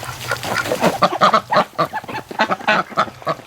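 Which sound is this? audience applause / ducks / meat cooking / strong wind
ducks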